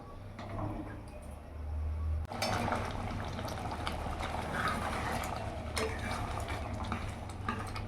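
Sona moong dal with papaya simmering in a pot after being stirred with turmeric and salt, a steady low bubbling and burbling that carries through the whole stretch, with occasional faint clinks.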